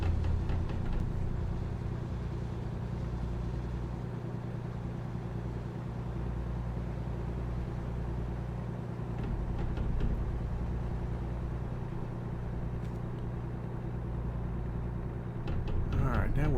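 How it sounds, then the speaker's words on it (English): A steady, low truck engine in the video game American Truck Simulator drones continuously on a highway, with a constant rumble, and a voice speaks over it near the end. "you're driving a truck over, highways and interstates"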